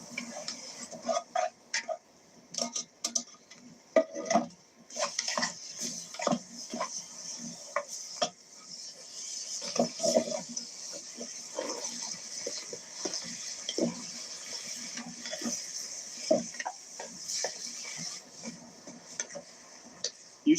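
Ground beef cooking in a pan in a home kitchen, with repeated scraping stirs, utensil clinks and a soft sizzle running throughout, close and moderately loud.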